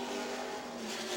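A late model stock car circles a Nashville short track under the yellow and checkered, its engine a steady, moderately loud drone with a held tonal hum.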